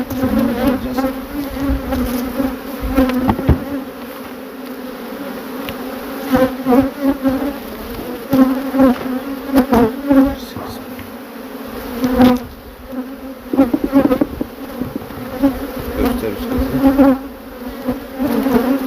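A swarm of honey bees buzzes densely and continuously, close and fairly loud, with individual bees flitting past in fluctuating bursts, no voices.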